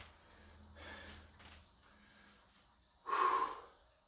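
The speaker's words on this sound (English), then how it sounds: "Really having a hard time breathing." Heavy, labored breathing after clapping push-ups in a weighted vest: soft panting breaths followed by one sharp, loud gasping exhale, close and alone.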